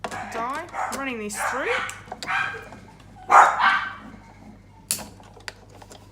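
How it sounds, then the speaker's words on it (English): Dogs bark in a home as someone talks over them while working a die-cutting machine, with sharp barks and clattering noises mixed into her speech. "Sorry about my dogs, guys."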